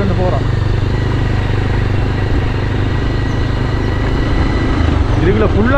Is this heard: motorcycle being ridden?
yes